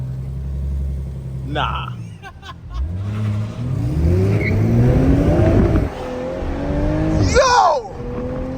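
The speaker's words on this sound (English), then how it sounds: "This car is way too loud, bro." An overly loud car engine revs hard at night, rising in repeated surging sweeps with a rumbling exhaust, close and loud, while someone speaks briefly over it.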